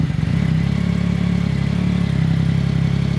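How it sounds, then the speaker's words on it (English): Yamaha R9 motorcycle with a Yoshimura exhaust starting warm and settling into a loud, close, steady idle with a throbbing rapid pulse, no talking. "I just turned the bike off, and now we're gonna try running it after it's been hot for like 10 minutes"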